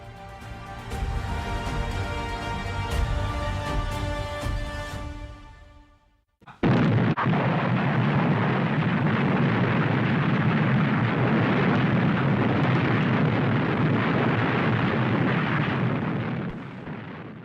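A massed artillery barrage from 1,000 guns opens the 1942 Battle of El Alamein. After a droning tonal passage and a brief hush, a sudden loud boom swells into a sustained, heavy rumbling roar. No one speaks.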